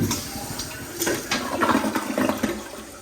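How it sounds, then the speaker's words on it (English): A toilet in an off-grid house in the woods flushes with a steady rushing swirl of water, close and fairly loud, sustained for several seconds. "Alright, so the bowl filled up too. Let's flush it."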